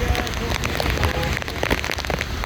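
Steady rain pours down outdoors beside a women's college, a dense hiss of drops hitting the ground with no break and no voices heard.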